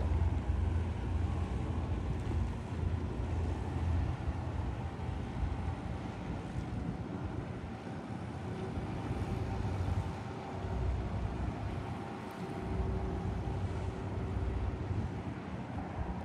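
A large boat approaching across open water at Ma Wan, Hong Kong, during a busy fishing outing; its steady low engine rumble and wash hold throughout, mixed with wind buffeting the microphone and no talk.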